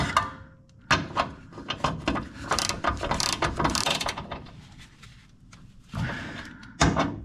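A hand ratchet tightens driveline assembly bolts in bursts of rapid clicking, close up, with short pauses between strokes and a few louder clacks of tool on metal.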